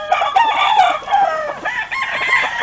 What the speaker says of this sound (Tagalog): ilabas mo yung tandang